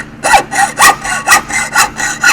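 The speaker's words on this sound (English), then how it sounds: "Using the hacksaw. And I'll cut it off" A hacksaw cutting through a pipe, its back-and-forth strokes loud and close, repeating in an even rhythm of about seven rasping passes with no talk.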